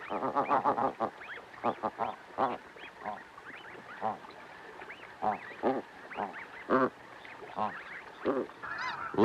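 Snow geese honking in a flock, many overlapping nasal calls in bursts, some close and loud, others fainter, continuing throughout.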